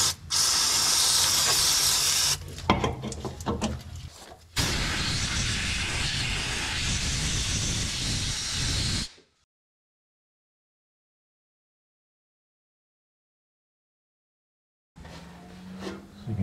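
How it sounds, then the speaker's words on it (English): On a leaking Dodge engine, brake cleaner is sprayed and compressed air blasts across the area: loud, close hissing bursts, one long sustained spray, then silence before another hiss starts near the end. "soak this area, and then dry it off with compressed air so that it dries the area"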